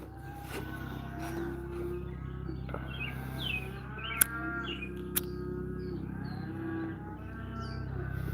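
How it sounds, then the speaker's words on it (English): Cows on a misty moor in the morning, several low drawn-out moos overlapping at mid distance, with birds chirping faintly and two sharp clicks. "The cows are coming out of the misty moor in the morning"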